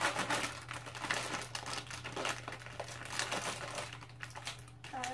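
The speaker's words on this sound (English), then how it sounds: "we finally fixed the scissors, so now we can cut open the squishy" Scissors cutting open the plastic packaging of a large bread-shaped squishy toy, heard as close crinkling and snipping of plastic wrap, fairly quiet and continuous with a low hum beneath.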